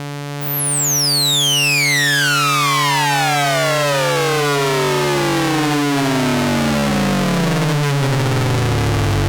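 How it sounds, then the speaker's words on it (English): A harsh electronic synth tone from a modular synth VCA wave shaper fed audio-rate signals, with dense, shifting harmonics, sweeps steadily downward, buzzing and distorted, loud and continuous throughout. "using audio rates while feeding the module audio signals in the input creates lovely distortion and complex harmonics"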